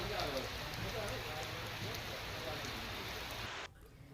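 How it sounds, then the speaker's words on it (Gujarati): Steady rain pours over Khambha town in Amreli, Gujarat, a dense even hiss that holds for several seconds and then drops off abruptly near the end. "ખાંભા શહેર તેમજ ગ્રામ્ય વિસ્તારમાં વરસાદ"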